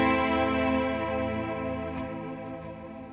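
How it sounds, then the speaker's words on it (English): A guitar volume swell from a worship pedalboard: a single smooth, sustained chord with no pick attack, gently fading over a few seconds with ambient modulation. "Then I've got swells sound"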